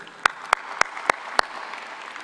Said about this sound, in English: It's nice to see the parents applaud themselves.